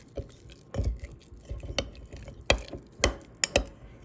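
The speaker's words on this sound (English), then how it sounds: "Mix it up." A spoon stirring thick sourdough starter paste in a container, with soft irregular scrapes and sharp taps in a loose rhythm, close and moderately quiet.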